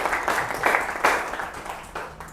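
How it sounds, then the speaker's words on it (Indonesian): Classroom students applauding a classmate, a short burst of scattered hand claps close by that fades out within a couple of seconds. "Boleh tepuk tangan dulu buat Aisyah."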